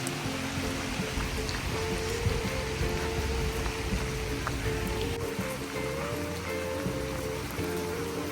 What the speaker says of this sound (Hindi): बारिश से कौन बच सकता है जब बारिश हो रही हो